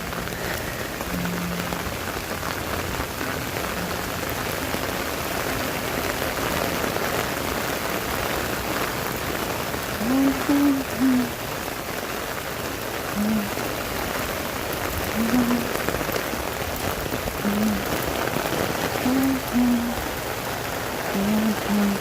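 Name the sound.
heavy rain falling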